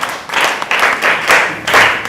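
Children clapping for a speaker at a reading event, a close, dense burst of applause in uneven waves of hand claps lasting about two seconds.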